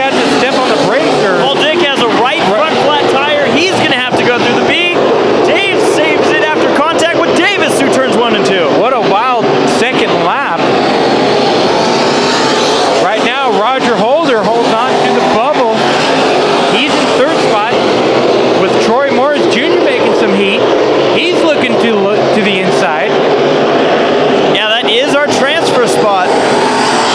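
Race cars roar continuously around Bakersfield Speedway during heat races at the Budweiser Nationals, a dense, steady engine drone that sits beneath nonstop excited commentary.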